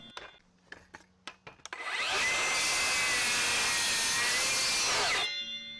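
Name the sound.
Milwaukee M18 Fuel 7 1/4 cordless circular saw cutting wood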